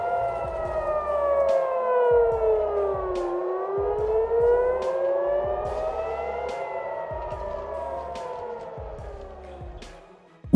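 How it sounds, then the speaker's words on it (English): Civil defense air raid sirens in Tel Aviv during a missile attack wail in slow rising and falling sweeps, overlapping from a distance, steady and loud for several cycles. "Sirens sounded across major cities, including Tel Aviv, prompting civilians to move to designated shelters."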